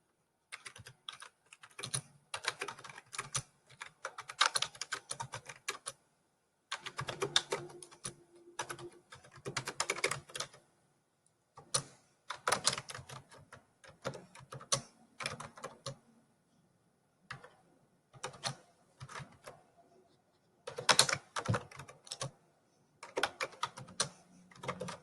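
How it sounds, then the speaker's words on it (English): Close, crisp typing on a computer keyboard while entering text in Microsoft Word 2019, coming in bursts of rapid key clicks separated by short pauses, with no talk. "You'll notice I'm just typing, no enter key or anything"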